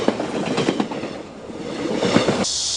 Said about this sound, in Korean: 깊은 산을 병풍 삼아 내달리는 기차